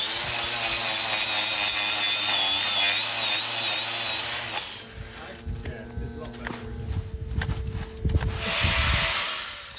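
A cow's infected hoof is trimmed to remove detached horn, with a tool rasping and scraping against the hard horn in uneven strokes, close and loud, a steady whine running through the first half.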